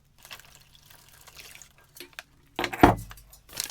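Water poured into an MRE flameless heater pouch, about 1.5 ounces: faint drips and trickles, then a short, louder splashing pour near the end, close by and without talking.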